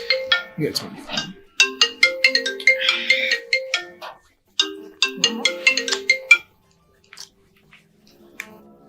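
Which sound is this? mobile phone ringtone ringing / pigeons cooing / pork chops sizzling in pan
mobile phone ringtone ringing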